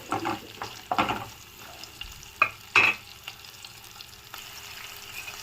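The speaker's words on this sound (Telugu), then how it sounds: "ఇవి ఒక 2 సెకండ్స్ దూరగా వేగనిద్దాము." Chopped green chilies and curry leaves fry in a pan for coriander rice, giving a quiet crackling sizzle with a few sharper spatula scrapes around the middle, close and with no voices.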